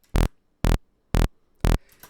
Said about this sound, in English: It's a saw wave.